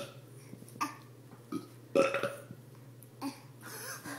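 Several loud burps from a child and an adult take turns, each a short raspy belch separated by pauses, close to the microphone over a steady low hum.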